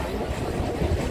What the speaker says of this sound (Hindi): सामने से ट्रेन आ रही है, रामनगर तक जाएगी।